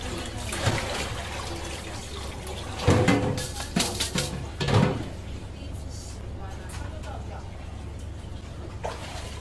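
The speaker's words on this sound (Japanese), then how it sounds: "お米は素早く洗うのがやっぱり一番こう美味しく洗える秘訣で" Rice is washed quickly by hand in water in the kitchen of Shari restaurant in Shanghai: close splashing and swishing, with a few louder sloshes in the middle, while someone talks over it.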